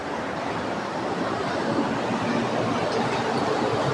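Rushing, pounding water roars as a continuous loud broadband wash, steady and close throughout with no speech over it.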